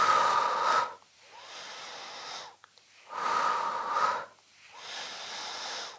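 Deep, audible breaths during a Pilates exercise, alternating a rushing inhale and a long breathy exhale in a slow, steady rhythm, close and alone without talk.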